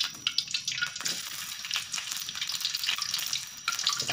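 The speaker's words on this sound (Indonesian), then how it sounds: "bawang putih dan bawang merahnya yang akan kita goreng duluan" Garlic and shallots fry in hot oil for a cooking dish, giving a steady crackling sizzle with bursts of spattering pops and no talk.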